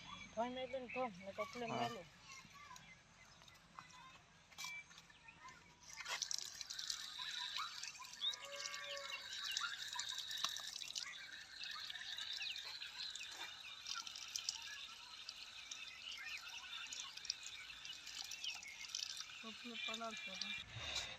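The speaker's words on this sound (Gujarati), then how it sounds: "ગાઈસ ટમાટા ધોઈ લીધા છે" Freshly picked tomatoes are washed under running water, a soft steady splashing trickle that runs for most of the stretch, with brief voices and faint background fowl around it.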